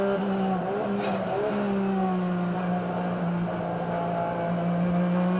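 A GT sports car races around Road Atlanta during the 2000 Petit Le Mans, its engine holding a loud, steady high whine with a brief shift in pitch, no talking over it.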